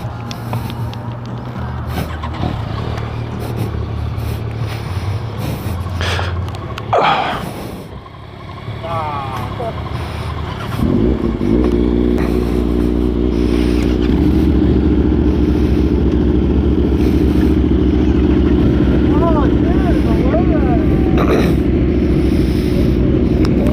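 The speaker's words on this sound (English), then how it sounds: "Shut my visor so you can hear me over these 4 bikes." Four motorcycles, including a Kawasaki ZX10-R, ride together on a group ride, their engines droning and revving loudly and steadily through wind noise, with a voice talking over them early on.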